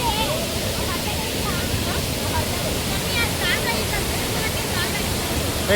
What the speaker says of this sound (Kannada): ಸೂರ್ಮನೆ ವಾಟರ್ ಫಾಲ್ಸ್ ಅಂತ ಇದ್ರ ಹೆಸರು.